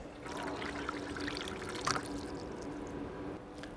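Soft, steady trickle of water pouring into a sink and splashing, faint and continuous with no voices.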